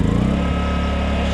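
A Generac GP2200i inverter generator with a dirty muffler, just started after flooding, runs close by in a short burst of steady buzzing engine drone.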